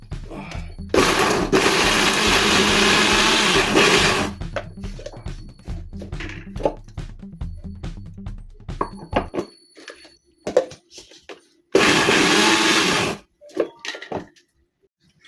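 A kitchen blender grinds tofu and soya chunks into a paste, running loud and steady for a few seconds, then cutting out amid small knocks and a later short second burst.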